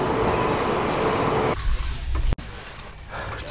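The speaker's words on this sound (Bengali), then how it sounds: "আমাদের ট্রেন ছেড়ে দিল বেরেলি।" The 12370 Kumbha Express, a Howrah to Dehradun service, pulls out of Bareilly station at night. A steady rumble from inside the AC coach gives way to a hissing rush, with a sharp thump partway through.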